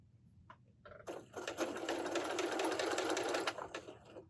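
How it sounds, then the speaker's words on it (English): A sewing machine stitches a quilt block, running straight around a seam: a short start-stop burst, then a steady, close whirring run of about two and a half seconds that stops abruptly, with quiet mechanical ticks before it starts. "we're just sewing straight around"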